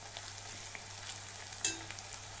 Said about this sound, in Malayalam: അപ്പം ഞാൻ ഓയിൽ ചൂടാക്കിയിട്ട് സവാള വറുത്തെടുക്കാനായിട്ടിട്ടുണ്ട്.